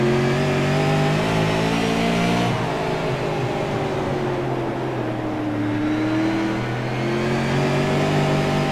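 Several race car engines at South Boston in a Fascar sim racing game, high tonal whine rising and falling as they shift and accelerate, loud and continuous with no voices over them.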